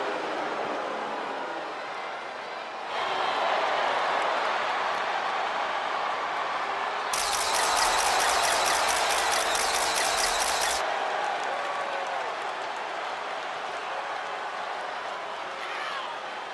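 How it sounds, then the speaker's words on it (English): A home crowd in the WWE 2K25 wrestling game cheers a female wrestler's entrance with a loud, steady roar. A brighter burst of arena noise swells in the middle, and no one speaks. "Tiffany Stratton getting a warm welcome from this home crowd"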